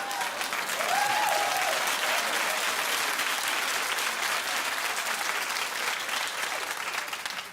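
A studio audience at a daytime talk show applauds in a loud sustained burst of clapping, with a brief whoop early on, continuing evenly before easing slightly at the end.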